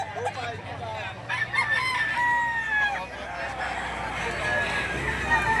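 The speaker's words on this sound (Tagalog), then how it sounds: "quality mga binibideo nating mga manok dito na nasa loob ng scratch pin" Roosters crow repeatedly at the Lipa livestock auction market in Batangas, several long cock-a-doodle-doo calls rising over background clucking and crowd murmur, with people talking nearby.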